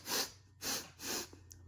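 A storyteller's voice imitates a wolf sniffing: three sharp, breathy sniffs in a row, close and fairly quiet, with a brief softer sniff at the end.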